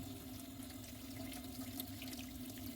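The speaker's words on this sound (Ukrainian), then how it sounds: "Я промиваю теплою водою." Grapes being rinsed under warm running tap water in a kitchen sink, a steady soft rush of flowing water with faint splashes, continuous and fairly quiet.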